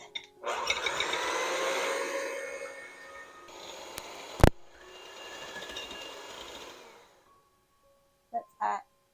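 Electric mixer beating eggs for a Steen's syrup cake batter, a continuous close whirring drone lasting several seconds with a sharp clack midway, then cutting off into near silence followed by a couple of brief knocks.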